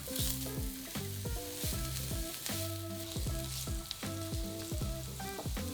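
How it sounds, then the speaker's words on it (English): Finely diced onion fries in olive oil in a pan over medium to high heat, giving a steady, close sizzle that runs throughout beneath prominent background music. "Add a finely diced onion and cook for 5 minutes, stirring often until the onion softens."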